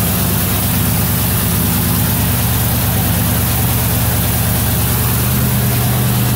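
A 1977 Mercury Marquis V8 idles close by, a loud, steady low rumble that holds unbroken throughout with no voices.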